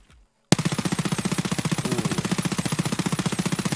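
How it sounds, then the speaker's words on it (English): A P90 submachine gun fired while crouched in a video game, an unbroken, loud and steady stream of rapid, evenly spaced shots starting abruptly after a brief silence and continuing for over three seconds. "P90 crouched."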